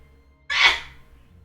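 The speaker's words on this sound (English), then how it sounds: "my wife is sneezing at a decibel level that I cannot ignore" A woman lets out a single loud, sharp sneeze, a sudden burst that fades quickly in an otherwise quiet room.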